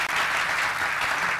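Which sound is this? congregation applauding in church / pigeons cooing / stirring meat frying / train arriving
congregation applauding in church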